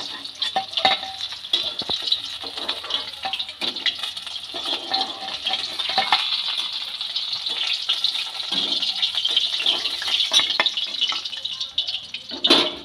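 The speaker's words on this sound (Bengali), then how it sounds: "সব মাছগুলোই এইভাবে একটা একটা করে আমি ভেজে নেব।" Khoira fish fry lightly in hot oil, one piece at a time, for a mustard fish dish; a steady, fairly loud hiss of oil runs throughout with a few small clinks.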